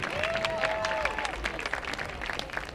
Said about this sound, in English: Another round of applause for Aiden.